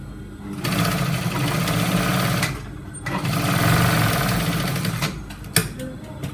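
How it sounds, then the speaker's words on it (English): Sewing machine stitching a seam on a corporate trouser leg, running in two steady, loud whirring stretches separated by a brief pause, then a few clicks near the end. "So I advise you to sew this place twice in order to give it a firm stitch."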